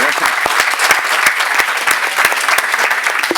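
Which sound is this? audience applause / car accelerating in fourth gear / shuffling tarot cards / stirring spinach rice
audience applause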